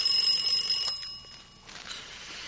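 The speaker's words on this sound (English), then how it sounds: "Bill, the alarm clock." An alarm clock rings in a bedroom, a steady high metallic jangle that runs loud for about a second, thins and drops back, then briefly swells again before settling into a quieter ring.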